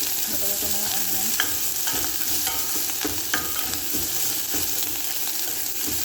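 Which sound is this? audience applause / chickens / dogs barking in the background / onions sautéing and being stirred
onions sautéing and being stirred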